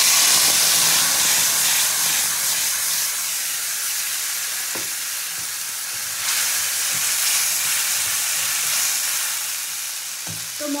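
Ground paste of ginger, cumin, dried and green chillies and tomato hitting hot oil in a pan: a loud, steady hiss and sizzle, easing slightly, with a few soft clinks of stirring.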